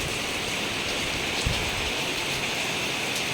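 Steady rain falls over a rural Thai farm setting, a dense, even hiss of drops on surfaces running throughout with no voices.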